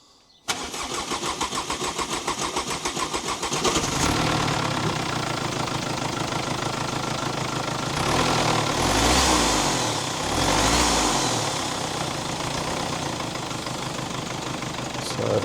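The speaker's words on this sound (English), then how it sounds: "You can listen to it starting." A campervan diesel engine, just freed of a kinked diesel pipe and running without an air filter, cranks briefly and then fires into a loud, steady, clattering idle that carries on unbroken at close range.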